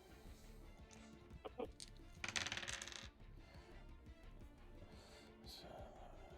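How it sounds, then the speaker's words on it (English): Dice rolling during a tabletop role-playing game session, a quick clattering tumble of plastic on a table lasting under a second, with quieter taps earlier and faint room noise around it. "Lost dice. I heard dice."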